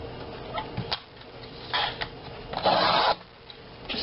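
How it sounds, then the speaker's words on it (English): Paper being scored for a recipe box, with short rubbing scrapes in separate strokes, close and fairly quiet, the longest one near the end. "Then on the 9 inch side I score at 4 3/4 inches."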